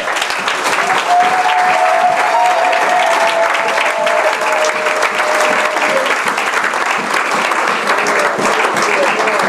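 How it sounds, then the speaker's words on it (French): A church congregation applauds steadily throughout, a loud, dense wash of many clapping hands with a faint sustained tone running beneath it. "On acclame la parole de Dieu ce matin"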